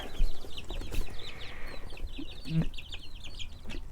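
Chicks under a heat plate inside an off-grid tiny house cluck and peep in quick, busy bursts, close by and fairly loud, with brief rustling between calls.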